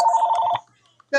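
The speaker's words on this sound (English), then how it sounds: "That's her phone." A work phone rings with a short electronic ringtone burst near the start, then a brief pause before a second ring begins, close and fairly loud.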